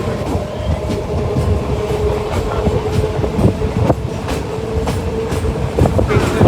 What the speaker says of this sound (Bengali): একটা চার নাগাদ ট্রেন এসে দাঁড়িয়েছে নামখানাতে